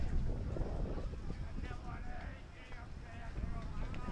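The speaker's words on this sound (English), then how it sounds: "The wind gusting up just a little bit here down in Green River." Wind gusts across the microphone at an outdoor baseball field in Green River during a wood bat tournament game, a constant low buffeting rumble that swells and fades, with faint voices beneath it.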